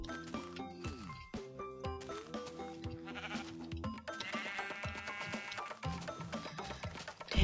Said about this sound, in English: I think I heard some sheep.